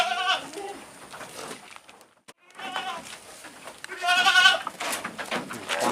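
Fat goats bleat in a fattening pen during harvest, several loud, close, wavering calls with a short quiet gap between them, sometimes overlapping, while faint rustling sounds around them.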